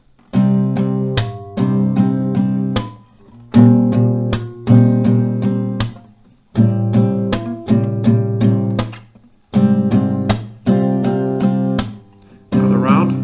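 Acoustic guitar strums a minor-key chord progression from a song, with bright repeated strums in short phrases broken by brief pauses, played alone and close.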